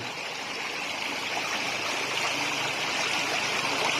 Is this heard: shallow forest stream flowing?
yes